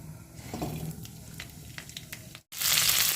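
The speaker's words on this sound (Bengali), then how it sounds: "সবজিগুলোকে এবারে আমি ভেজে নেব প্রথমে আমি ফুলকপিগুলো দিয়ে দেবো" Cauliflower florets frying in hot oil for a vegetable dal, a steady crackling sizzle with scattered pops that cuts out briefly, then returns as a loud, bright hiss.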